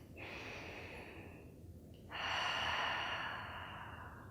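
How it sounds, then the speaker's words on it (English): Deep cleansing breaths blown out through the mouth, two soft, airy exhalations close to the ear, the second stronger and longer, with no talking. "Take some nice deep cleansing breaths and blow it out through your mouth."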